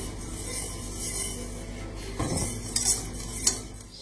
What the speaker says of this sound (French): à cuire sur le feu doux, tout en continuant à tourner, à touiller, pour ne pas avoir de grumeaux